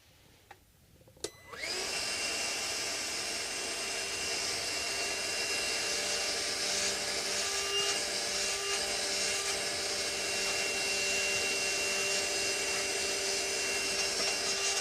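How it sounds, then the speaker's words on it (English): A vacuum cleaner runs steadily at close range while cleaning a Martin HD-28 acoustic guitar under reconstruction, switching on with a couple of clicks and then holding a loud, continuous whine with a faint tonal hum. "just vacuum it"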